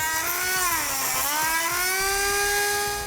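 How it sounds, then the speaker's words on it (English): A Dremel-type rotary tool cuts along an edge on a 2017 GMC Acadia during a base plate install, whining loudly and close with a high tone that dips and then recovers as it bites into the material. "we're going to take a Dremel tool, reciprocating saw, and we're going to cut right along this edge"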